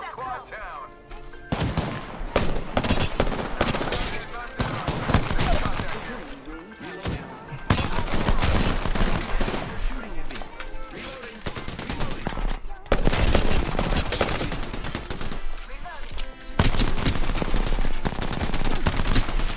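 Near-constant video game gunfire, with rapid bursts and heavy shots coming in loud, dense waves separated by brief gaps, mixed with other game sounds and a voice talking.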